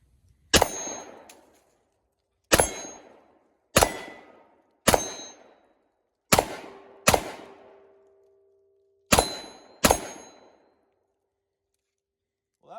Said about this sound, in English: So I'm gonna try some steel shots here first